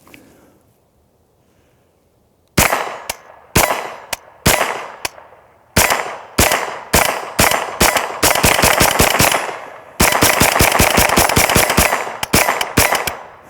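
Close, loud gunfire as a full magazine is emptied, starting with spaced single shots and moving into quicker bursts and rapid strings of sharp cracks, with no talking.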